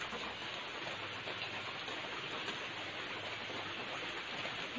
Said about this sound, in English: I am not sure when the rain start, but Philip go out.